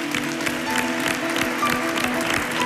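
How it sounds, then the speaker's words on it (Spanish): A studio audience applauds a flamenco troupe on a Spanish television show, with dense, steady clapping that stays loud throughout and faint tonal music lingering beneath. "Aplauso para todo el cuadro"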